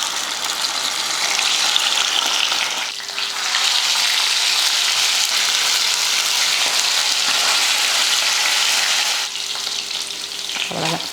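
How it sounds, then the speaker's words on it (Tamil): Mackerel frying in hot oil gives a loud, steady sizzle and crackle that fills the whole stretch, swelling as the fish goes in and easing near the end, with no voices. "எண்ணெய் காஞ்சதுமே மீன் எடுத்து வச்சு பொரிச்சு எடுத்துக்கலாம்."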